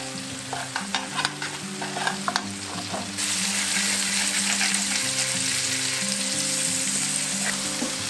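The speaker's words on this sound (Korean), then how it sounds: "고기가 골고루 골드색이 띄었을 때 아까 간 토마토 즙을 다 넣어주세요." Grated tomato juice poured over browned meat in a paella pan for paella valenciana, then a steady sizzle with the scrape of stirring. Close and continuous, louder and more hissing after the liquid goes in, with no talk.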